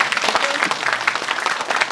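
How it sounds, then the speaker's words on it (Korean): Audience applause at an indoor briefing session on a redevelopment zone's property appraisal, dense steady clapping from a seated crowd filling the whole moment at an even, close level. "다시 한번 박수를 쳐주십시오"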